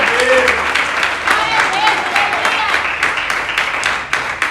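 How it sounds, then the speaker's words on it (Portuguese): A church congregation claps continuously during a sermon, a loud sustained wash of applause, while a voice speaks briefly over it. "Bate as palmas para o Senhor."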